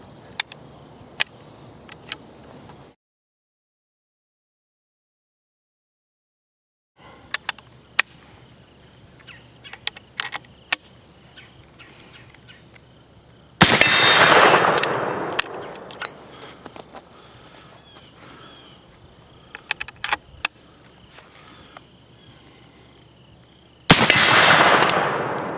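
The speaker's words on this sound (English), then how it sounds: "inserting a cartridge, closing the breech, and then firing" A Remington Rolling Block single-shot rifle is handled with sharp metallic clicks as a cartridge goes in and the breech closes, followed by two loud gunshots several seconds apart, each trailing off in a ringing decay.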